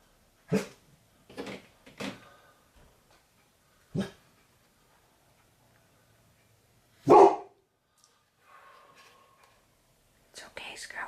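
A few short, sharp yaps from a puppy ring out in a quiet room, spaced apart with long pauses, followed by some faint soft noises.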